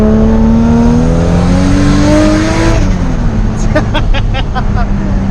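A Toyota Supra with an eBay turbo making over 500 wheel horsepower accelerates hard, its engine note climbing loudly through the revs with a brief shift dip, and a voice is heard over the roar.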